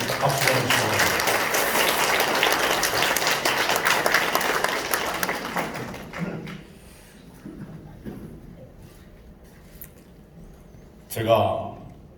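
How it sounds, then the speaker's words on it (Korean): Loud, dense audience applause at a political forum launch event in Gumi fills the first six seconds, then thins to scattered claps and shuffling, with a brief burst of clapping or movement near the end. "여러분 박수 주시고."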